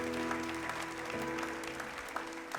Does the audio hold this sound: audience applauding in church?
yes